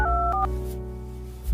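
A telephone being dialed: a short run of clear keypad tones, close and distinct, then a steady tone continuing alone without talk.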